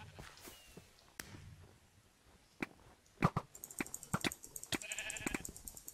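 Faint game sounds from Minecraft with clicks and footsteps give way to a quiet, wavering sheep bleat near the end, soft and a little distant.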